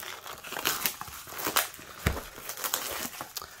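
Plastic wrap crinkles and tears as a Flesh and Blood Monarch first edition booster box is cut open and unwrapped, a steady close crackling with a few sharper rips and a thump.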